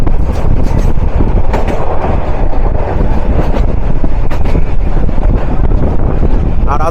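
A local commuter train runs at speed on the line near Jamalpur, with a loud, continuous roar of wheels and rattling carriages plus wind buffeting close to the microphone.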